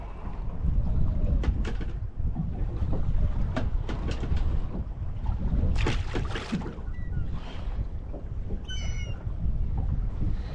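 Wind buffets a microphone aboard a small Warrior 175 fishing boat drifting over a wreck off the UK, a continuous low rushing broken by faint knocks and clatters.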